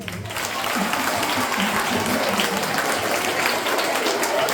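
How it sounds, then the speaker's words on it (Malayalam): A school audience at an anniversary cultural day claps steadily and loudly, a dense wash of hands sustained from start to finish after a brief quiet opening. "ഒരു നല്ല കയ്യടി തരൂ."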